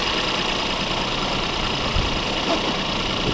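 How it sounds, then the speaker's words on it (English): A car engine idles steadily after a jump start, a close, continuous rumble with a faint mechanical hum, heard alone without talk. "Once the vehicle's running,"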